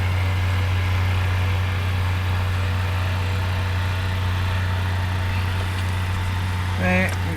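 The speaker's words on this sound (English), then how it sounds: "sorry about the tractor in the background." A tractor engine drones steadily in the background with a strong low hum, running nonstop beside work on an alternator repair for a Volvo S60, with a brief clink near the end.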